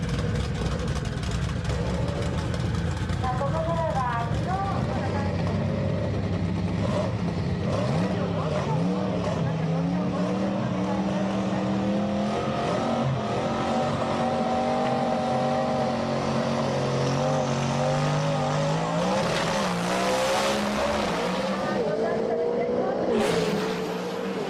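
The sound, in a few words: twin-turbo V8 drag race cars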